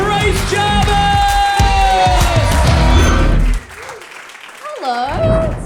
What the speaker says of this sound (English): Keep that round of applause going for the very funny Grace